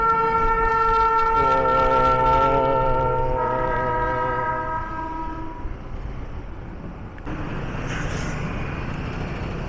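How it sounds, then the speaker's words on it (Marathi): A passing Azadi Ka Amrit Mahotsav train in Mumbai sounds a long, loud, multi-tone horn that shifts pitch partway, then fades into the rumble of the moving train. "आझादी का अमृत महोत्सव ट्रेन चालली आहे."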